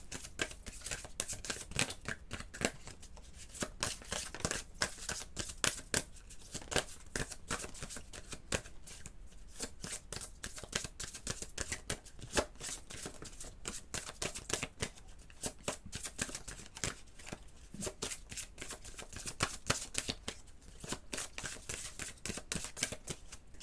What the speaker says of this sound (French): Et on va prendre pour finir une carte de l'oracle des énergies lumineuses.